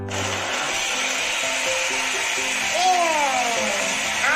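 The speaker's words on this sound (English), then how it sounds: "And now let's blend it out." A kitchen blender whirs loudly and steadily as it blends a mango ice cream mixture, its motor whine shifting in pitch toward the end.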